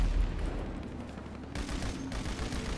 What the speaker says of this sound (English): I'm using my rockets.